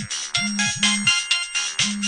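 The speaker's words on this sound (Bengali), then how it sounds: "ফোনটা বেজে ওঠে।" A phone lying on a table rings with a repeating electronic ringtone of short melodic bursts in a quick, regular rhythm, clear and close.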